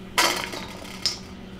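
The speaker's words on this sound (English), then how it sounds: "I know you're technically not supposed to scrape your knife on a chopping board because it makes it dull" A kitchen knife scrapes across a chopping board in one brisk, rasping stroke followed by a second short scrape, close and clear in a quiet kitchen.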